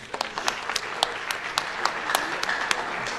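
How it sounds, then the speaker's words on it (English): An audience at a high school arts festival awards event applauds, with distinct sharp claps standing out in a steady rhythm over a dense, moderately loud patter of hands. "Hold applause until I finish the list."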